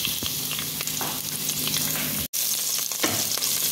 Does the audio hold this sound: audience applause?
no